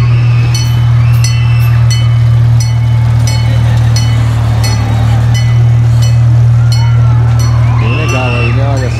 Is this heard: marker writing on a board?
no